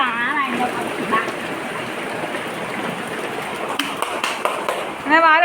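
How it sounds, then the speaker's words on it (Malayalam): Steady rain falls throughout, a dense hiss of drops on surfaces, while a person talks over it near the start and end. "മഴയുണ്ടാ? നീ നനയുന്നുണ്ടാ?"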